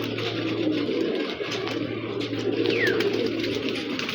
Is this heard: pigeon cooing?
yes